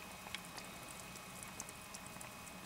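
On a mountain hiking trail, soft, irregular drips of water patter faintly against a low, steady background of running water, with no voices.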